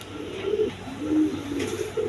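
Red gorra pigeons coo in soft, low, repeated throaty phrases at close range, three or four warbling calls over a quiet hum.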